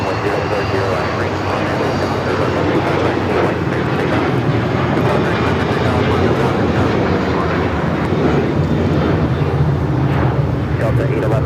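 A jet airliner at Los Angeles International Airport produces a loud, steady engine roar that holds for the whole stretch, with voices talking over it.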